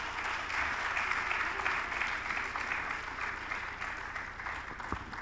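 Audience applause at an Erasmus+ pre-departure orientation after a speaker finishes, a steady wash of many hands clapping at a distance, even and moderately faint throughout.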